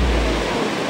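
Water gushes from a broken Manila Water pipeline in Makati City, damaged by contractor digging, and pours straight into a drainage; the sound is a steady, loud, broadband rushing roar with no voices.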